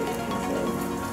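Steady rain falls outside on a city street in Chicago, a dense, even hiss of drops on surfaces that stays constant and close for the whole moment, with no voices over it.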